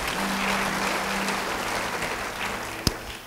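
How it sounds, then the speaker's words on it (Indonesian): A church congregation breaks into sustained applause, a dense wash of clapping from many hands that continues steadily, with one sharp knock near the end. "beri tepuk tangan buat Tuhan"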